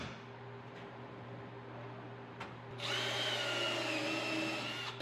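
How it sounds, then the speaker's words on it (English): Power drill pre-drilling screw holes for the drawer fronts of a cherry and walnut waterfall desk, starting up about halfway through as a steady close whirring that runs to the end over a faint background hum. "For attaching the drawer fronts, I pre-drill holes and everything, then put some screws."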